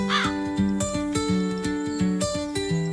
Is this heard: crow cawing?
yes